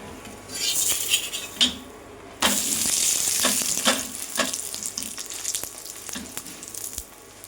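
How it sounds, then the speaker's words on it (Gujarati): A paratha sizzles and crackles crisply in hot ghee in a pan, with steady frying broken by occasional clinks and scrapes of a metal utensil. "આપણે આ પરોઠાને ઘીમાં બનાવીશું"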